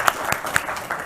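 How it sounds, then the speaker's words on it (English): A brief burst of audience applause, a scattered crowd of clapping hands at moderate volume with no talk over it. "I still want the audience to give you a round of applause"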